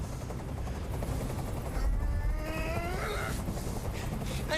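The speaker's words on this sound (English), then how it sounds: "Tell that helicopter to get out of here!" A helicopter in Detroit: Become Human thuds overhead, a low continuous rotor chop steady through the whole span, fairly close and loud, with a brief whining tone drifting across the middle.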